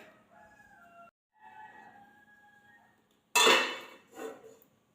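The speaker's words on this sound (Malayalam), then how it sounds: "ഒരു പാത്രം കൊണ്ട് കുറച്ച് നേരം മൂടി വയ്ക്കുക" A vessel is set down over a pan of rava upma, giving one sharp metallic clang and rattle and then a smaller knock. Before it, faint drawn-out tonal calls like a distant rooster sound against a quiet background.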